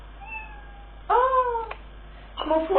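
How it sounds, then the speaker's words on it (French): A pet cat meows twice nearby, loud, drawn-out calls separated by a pause, with a brief spoken remark and faint background voices in between. "Ah, c'est mon chat."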